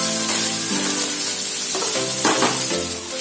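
Rava-coated fish fries in a pan, Mangalore style, with a loud continuous sizzle close by and some stirring and bubbling bursts, and no one speaking.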